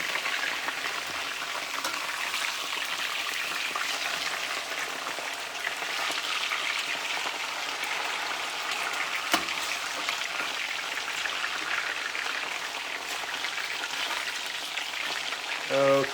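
Fries sizzle and crackle steadily in hot oil in a home kitchen, a dense continuous hiss with no breaks, heard close up.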